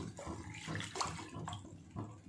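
A glass of water poured into a pan of green fish curry splashes and gurgles steadily for a couple of seconds, close and without talk.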